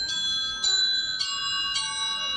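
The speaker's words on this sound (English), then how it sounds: "these are the kind of bells that are inside the telephone." Bright metallic telephone ringer bells struck in a repeating pattern, about four rings with sustained shimmering overtones, clear and close with no voices.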